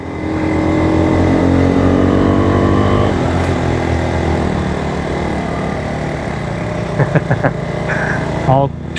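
A small, low-powered engine of about 16 horsepower runs wide open, a loud, steady drone that holds throughout, with a few brief knocks near the end.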